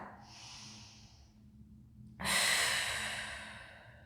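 Deep breathing during a Pilates class: a soft, drawn-out inhale, then a short silence and a loud, breathy exhale close to the microphone.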